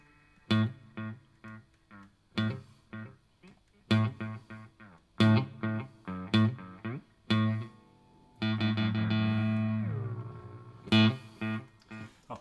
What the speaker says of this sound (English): Delay pedal.